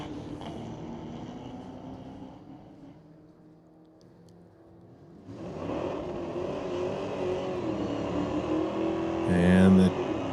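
Dodge Challenger and Corvette launching side by side at a street-legal drag race at Mission Raceway Park, engine roar fading then surging loudly into a sustained high-revving run, with an announcer talking over it.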